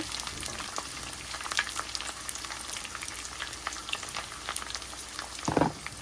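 Lightly browned onions fry in a pan with a steady close sizzle and popping crackle, and a short louder burst of spitting near the end as slit green chilies drop into the oil.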